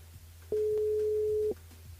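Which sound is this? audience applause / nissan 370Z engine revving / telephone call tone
telephone call tone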